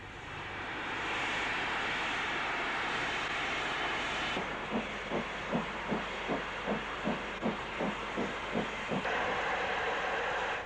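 Thompson B1 steam locomotive 61122, dating from 1942, running with a steady loud hiss, then a regular series of rhythmic exhaust beats for several seconds before the steady roar resumes.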